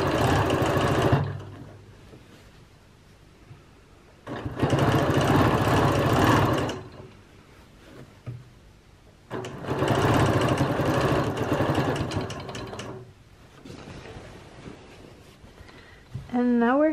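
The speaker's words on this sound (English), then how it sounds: "we're first going to quilt this line all the way to the other side" A sewing machine quilts a straight line across a quilt, running in two long, loud, steady bursts with quieter pauses between them.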